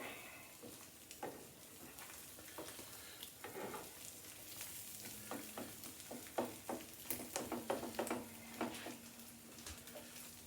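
Bologna fries in a pan with a steady low sizzle, and scattered pops and clicks come quicker and louder toward the end, with no talking.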